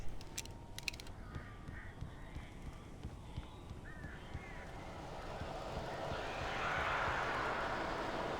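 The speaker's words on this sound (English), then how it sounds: "Birds! Can you flare gun the birds?" Crows caw intermittently in the Alan Wake video game, faint and distant over a steady rumbling, windy game ambience that swells toward the end.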